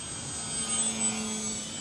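A 1.5 m Maule model airplane's engine drones steadily during a slow, close downwind pass, a sustained mid-pitched buzz that swells slightly midway and holds fairly near, with no talk.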